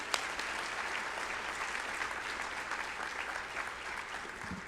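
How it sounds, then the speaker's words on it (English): Applause from a seated audience at a police and citizens awards banquet, a steady, moderately distant wash of clapping that holds evenly throughout. "One more round of applause for her."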